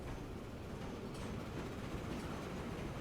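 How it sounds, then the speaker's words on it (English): A freight train carrying food rolls into a station in the Transport Fever 2 video game, giving a steady rumbling rail noise with faint clatter, continuous and fairly quiet, with no talk. "in comes the food train"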